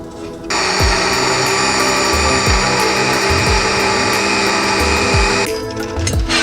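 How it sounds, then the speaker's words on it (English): A loud blender blending butter chicken sauce runs steadily for about five seconds with a constant whirring motor roar, starting and stopping abruptly, with faint low thumps beneath. "now we're gonna blend our sauce"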